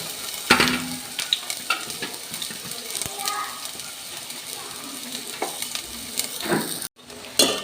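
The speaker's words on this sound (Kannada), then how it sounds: "ಈರುಳ್ಳಿ ಮತ್ತು ಬಿರಿಯಾನಿ ಎಲೆ ಫ್ರೈ ಮಾಡ್ಕೊತಾ ಇದ್ದೀನಿ." Onion and a biryani leaf fry in hot oil while being stirred, giving a soft continuous sizzle broken by scraping and clinking of a utensil against the pan, close and moderately loud.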